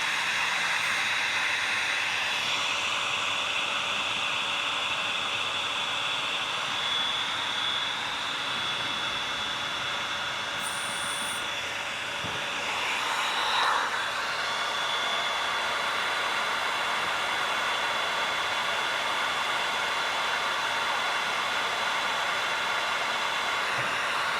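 A heat gun blows with a steady, loud rushing whine while a Surron throttle is being wired, holding nearly constant from start to finish with a brief dip partway through and no voices.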